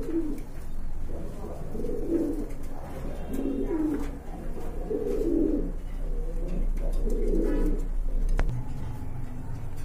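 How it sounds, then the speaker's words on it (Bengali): A pair of fancy Giribaz high-flying pigeons coo softly and repeatedly, close by, over a steady background hum. "আরেক জোড়া কবুতর দেখতে পাচ্ছেন মাশাআল্লাহ, খুবই সুন্দর গিরিবাজের ভিতরে হাই ফ্লাইং কবুতর।"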